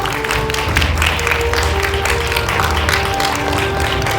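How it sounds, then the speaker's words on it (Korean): A crowd at a press conference applauds steadily, with dense clapping that carries on throughout and a faint tonal hum underneath. "먼저 혹성 탈출 새로운 시대 시각 효과를 담당한 오야타 FX 제작진 에릭 윈키스트님을 박수로 모시겠습니다."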